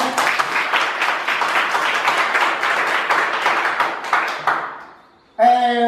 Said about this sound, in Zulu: ngicela simshayele ihlombe